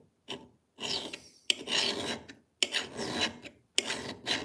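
A hand file rasps along a blade edge to redress it, in five rough, close strokes separated by short pauses, with no talking.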